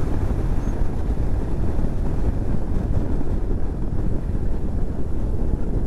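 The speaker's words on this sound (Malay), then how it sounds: "Bila yang saya bawa ni, angin tu agak kuat lah." Heavy wind rush buffets the rider while riding a BMW R 18 motorcycle in traffic in Malaysia, a dense, continuous low roar with no break and no talking.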